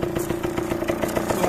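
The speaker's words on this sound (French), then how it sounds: "le moteur a l'air de tourner, il n'y a pas de bruit anormal" A Yamaha DT 50 enduro moped engine, restarted after 15 years of disuse, runs steadily nearby with a rapid, even two-stroke putter and light clatter, no voices.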